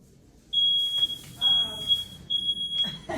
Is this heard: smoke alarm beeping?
yes